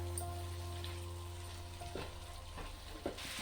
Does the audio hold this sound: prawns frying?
yes